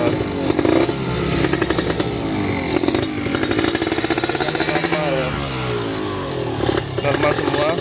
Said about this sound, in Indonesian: Kita starter pakai engkol ya, coba, memang agak susah, tapi coba kita starter.